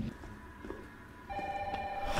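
An old-style telephone bell rings in the Resident Evil 3 video game, a moderately quiet repeating electronic trill over low game ambience, growing a little louder toward the end.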